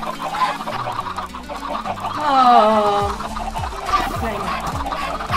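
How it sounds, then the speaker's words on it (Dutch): Chickens squawk and cluck as they are killed in a survival video game, with a sharp flurry of squawks in the middle, over a layer of synthetic game tones and a brief voice. "Hij maakt de kippen dood."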